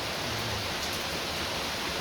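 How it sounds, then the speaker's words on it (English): Heavy rain pours down outdoors in a dense, unbroken hiss of drops, loud and close, with no pauses and no voices over it. "Well, raining hard."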